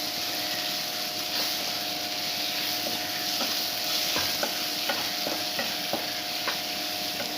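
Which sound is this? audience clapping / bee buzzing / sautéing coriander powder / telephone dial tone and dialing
sautéing coriander powder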